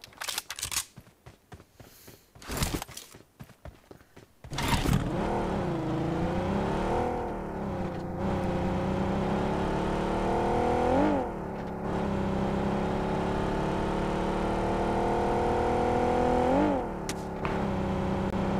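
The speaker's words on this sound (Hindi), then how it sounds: "गाड़ी आई भाई" A car drives and revs in a video game, with rough clattering noise at first, then a steady engine drone that climbs and falls in pitch through several gear shifts for the rest of the clip.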